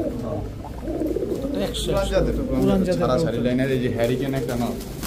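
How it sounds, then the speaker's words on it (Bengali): A male Rajshahi Mili Giribaz pigeon with a brown neck and pearl eyes, cooing in low, repeated rolling calls close by while someone talks over it. "রাজশাহী মিলি গিরিবাজ একটা নর কবুতর"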